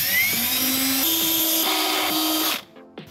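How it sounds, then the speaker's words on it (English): An angle grinder grinds down a slightly overlong bolt on a 1989 Saleen Foxbody with a 331 stroker, a loud continuous whine with small pitch shifts for about two and a half seconds before cutting off. "hopefully I can grind that out."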